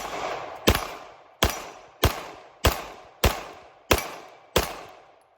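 Seven sharp pistol shots from an OA Defense 2311, fired at a steady pace into a steel plate rack, each crack followed by a brief ringing decay, loud and close with no talking.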